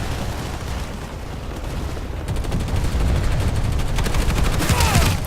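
Dense gunfire from the online shooter Planetside 2, a loud, steady barrage of rapid shots and booms that swells in intensity toward the end.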